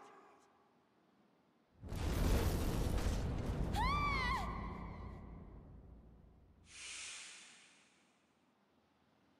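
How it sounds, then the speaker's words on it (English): A large explosion in the video game Exist Archive: a sudden loud boom with rumbling debris that slowly decays, followed by a short vocal gasp and a faint hissing tail. "There was this huge explosion."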